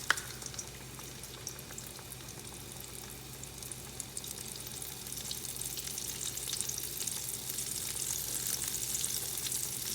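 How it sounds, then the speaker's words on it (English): Battered calf fries sizzle and bubble in hot grease, a steady crackling fry that slowly grows a bit louder, heard alone and up close. "Drop in my egg wash, flop in my flour, drop in my hot grease"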